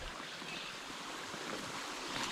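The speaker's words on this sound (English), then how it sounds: "It's a really cool stream. It's coming along the road, or along the trail, and it's just pouring out of the rocks up here." A trailside stream pours out of the rocks along the Gerard Trail in Oil Creek State Park, a steady close rushing and babbling of water with no voices.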